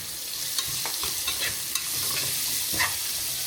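Chopped onions with green chillies frying and being stirred in a pan, a steady close sizzle with scattered clicks of a spoon against the metal and no voices.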